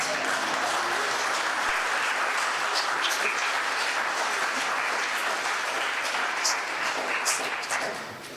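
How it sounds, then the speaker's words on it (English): Applause at an outdoor flag-raising ceremony during a Cyprus Week event at Theatro Technis, a continuous wash of many hands clapping, fairly distant and even, tapering off at the very end. "I think that was an actor clapping"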